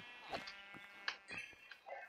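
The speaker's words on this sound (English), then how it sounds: "I do see a couple sheep though." Sheep bleating in GemCraft DragonFire, several short wavering bleats in quick succession, fairly quiet and with no talk over them.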